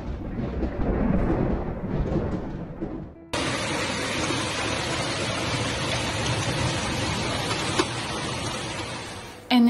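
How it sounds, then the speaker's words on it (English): A hailstorm with thunder and rain over Dijon, France: a rumbling, wind-blown wash of storm noise, then an abrupt shift to dense, loud, steady hail and rain hammering nearby surfaces for several seconds. "An impressive hailstorm hit the city of Dijon and several villages in the department"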